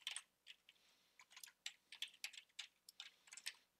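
Computer keyboard typing, a quick irregular run of fairly faint keystrokes in short bursts with brief pauses, no voices.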